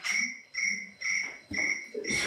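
An electronic meeting timer chirps like a cricket in five short, evenly spaced bursts of bright, shrill tones, fairly loud and close in a quiet room.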